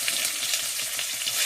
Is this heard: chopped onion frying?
yes